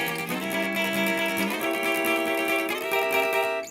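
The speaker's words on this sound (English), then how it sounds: "that's a diminished chord" A diminished chord rings out on a clean electric guitar, one sustained strum that holds steady and fades away near the end. It sounds alone, with no talk.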